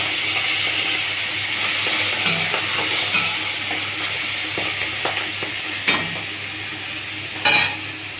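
Prawns and cut vegetables frying in a pan, a continuous loud sizzle and hiss with occasional sharp clinks and scrapes of stirring, close up with no talking.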